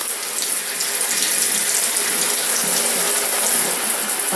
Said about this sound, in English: You see the water pressure drop as I turn this into the hot range?